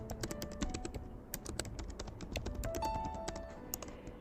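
Rapid, irregular clicks of a computer keyboard being typed on, close and fairly quiet, with short pauses between bursts of keystrokes.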